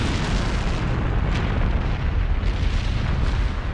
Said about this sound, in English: It is as I feared. The mountain has awoken.